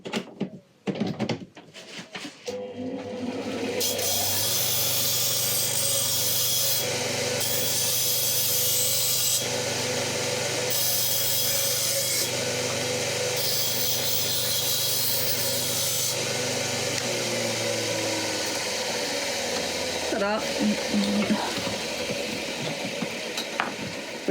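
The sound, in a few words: grinding and filing metal crinoline hoop ends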